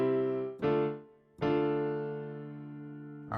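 A piano plays a short gospel chord progression, three sustained chords struck one after another, each ringing out and slowly decaying, close and clear with no talking.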